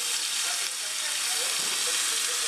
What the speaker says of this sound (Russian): пока у меня жарится первая партия